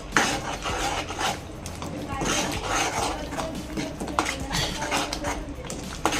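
Spices being stirred into chicken curry in a pan at home: a spoon scrapes and clinks against the metal in an uneven rhythm over a low steady hum, with someone talking throughout.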